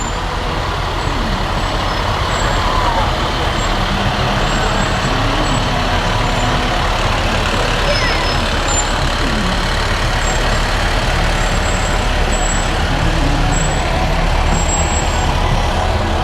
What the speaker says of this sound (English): Uppsala fire truck right there coming through.